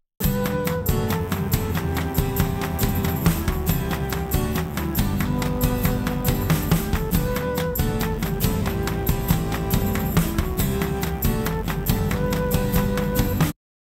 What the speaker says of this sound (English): So I have a track with guitar, and I want to identify its chords.